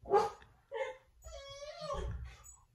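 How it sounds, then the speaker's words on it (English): Excited dogs bark, whine and howl close by in a few short bursts and a drawn-out wail. "The dogs are excited."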